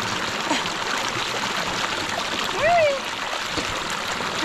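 Water splashing continuously during an outdoor shower in a Kenyan village, a steady rushing wash with a brief higher vocal sound briefly over it.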